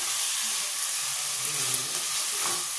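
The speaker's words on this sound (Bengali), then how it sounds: "দিয়ে এটাকে একটু সিমে করে দেবো কড়াটা টুকটাকে, দিয়ে আস্তে করে নাড়তে থাকবো" Mango pieces stirred gently in a wok over low heat: a soft, even sizzle and hiss running throughout, with faint, occasional stirring scrapes close by and no talking.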